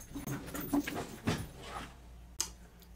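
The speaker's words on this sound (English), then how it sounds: "My dogs are deciding to play right now." Two dogs play indoors, panting, snuffling and shuffling close by with soft whimpers and scuffles, then a sharp click near the end, all fairly quiet.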